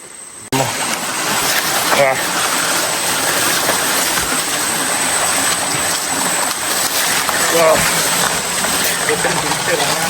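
Stream water rushes steadily through a forest where it has been dammed into a bathing pool, a loud, close, constant gush that runs the whole time, with people talking over it.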